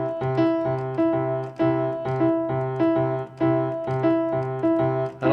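A two-handed four-against-three polyrhythm on a pitched, sustained instrument, four notes in the left hand against three in the right, loops steadily as clear repeating strikes with ringing tones, close and alone.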